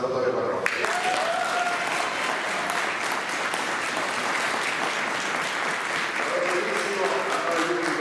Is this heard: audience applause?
yes